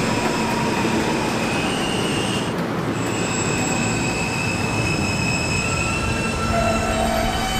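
An R subway train at night runs along the track with a loud, continuous roar, and high metallic wheel squeals ring out over the rumble for the whole stretch.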